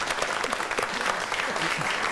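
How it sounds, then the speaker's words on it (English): A studio audience at a BBC TV books programme gives a steady, even round of applause, moderately distant and continuous throughout. "I think a round of applause for Sheldon Lewis"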